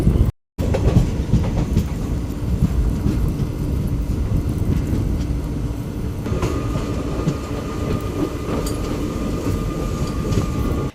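Special train 07219 on an electric double-track line runs with a steady, loud rumble and clatter of wheels from inside the carriage, briefly cut at the start, with a faint high whine appearing later.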